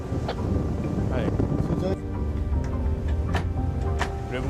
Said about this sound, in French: Le bruit du vent dans les oreilles